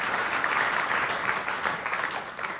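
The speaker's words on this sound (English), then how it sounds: "Can we have one more round of applause, please, for Milan Wall?" Audience at the Nebraska Storytelling Festival clapping for a storyteller, a full, even burst of applause from many hands, close and sustained for the whole moment.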